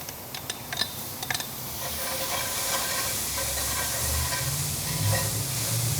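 Tomato hitting garlic in a hot pan on a Kamado Joe Classic II grill: a broad, steady sizzle and hiss that builds after a few sharp clicks and stirs, with a low rumble of fire beneath, close and continuous.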